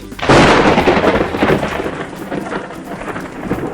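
Heavy rain with a loud thunderclap, used as a story sound effect: a sudden deep rumbling boom rises over dense pouring rain, then fades into a steady downpour, with no voices.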